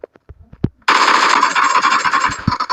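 Rapid sustained automatic gunfire in the mobile battle royale game PUBG Mobile, loud and dense after a few scattered sharp knocks, with a short burst of pops near the end.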